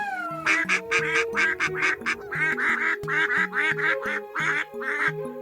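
Cartoon ducks quacking in a rapid, near-continuous run of loud, close calls over a faint musical backing, with no talking.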